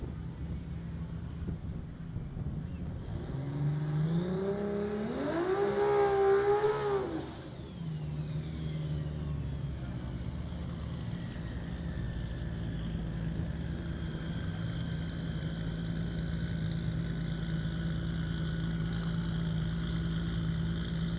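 A Toyota Supra drag car at the Texas Motorplex revs in a rising, wavering climb during its burnout, then drops to a steady, droning idle that holds to the end.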